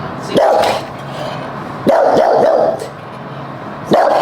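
An overly protective dog barks at a person entering its space, three loud bursts of barking spaced a second or more apart, close by.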